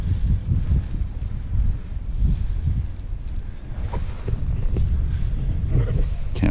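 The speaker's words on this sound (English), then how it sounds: "I guess there's a little less wind" Wind gusts across the water while kayaking at Live Oak Landing, making a steady, rumbling buffet of low noise with brief rustling flurries.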